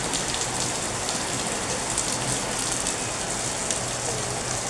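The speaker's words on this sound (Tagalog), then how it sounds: "Masama ang panahon, umuulan pa din." Steady rain from a typhoon falling continuously, a dense hiss of drops striking surfaces close by, with no voices.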